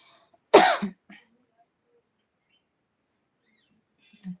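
A woman coughs once sharply and close, with a smaller follow-up sound, then near silence and a faint short noise at the end.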